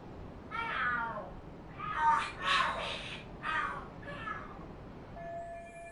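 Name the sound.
cats fighting and screaming in video game Lost Judgment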